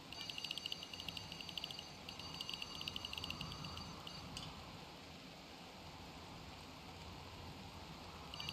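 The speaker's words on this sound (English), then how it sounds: "Don't you just love it when it rains in-game?" In-game rain in RimWorld patters softly and steadily, a faint wash of falling drops with light ticking sounds over the first few seconds.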